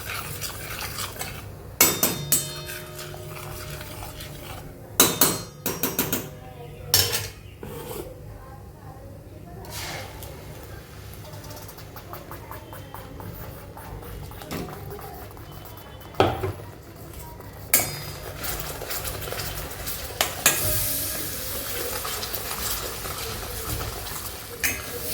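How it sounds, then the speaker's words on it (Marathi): Dry spices sautéed in oil in a pan for egg curry, quiet sizzling under repeated scraping and clanking of a spoon against the pan, with scattered louder knocks and faint background noise. "तेल जास्त तापलेलं नाही आहे ना, तेवढ्यातच ते ना हे मसाले परतवून घ्यायचे"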